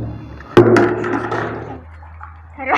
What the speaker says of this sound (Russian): Сюда у нас берут воду.